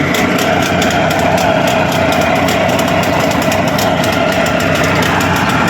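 A steady boat engine idles loudly and continuously, a droning rumble with a fast, even pulse and no voices.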